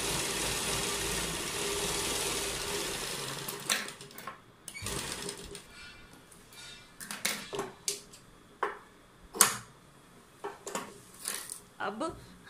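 A sewing machine stitches lace onto a Punjabi suit, running steadily at first, then breaking into short bursts of stitching separated by pauses, close and fairly loud.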